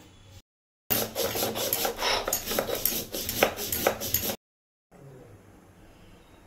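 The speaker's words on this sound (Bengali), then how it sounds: "এখন এটা বেটে নিব।" White mustard seeds, poppy seeds and a little salt being ground into a paste by hand, giving a steady raspy rubbing and scraping for about three and a half seconds between short pauses.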